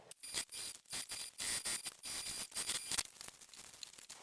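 Home sewing machine top stitching around the edge of a fabric book sleeve, a fast mechanical needle chatter in short bursts with brief pauses, close and fairly quiet, no talking.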